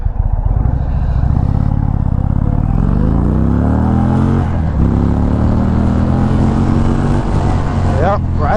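An Indian Springfield Dark Horse motorcycle accelerates hard, its loud, close engine note climbing steadily through the revs up to the rev limiter, with a brief dip at a shift before rising again.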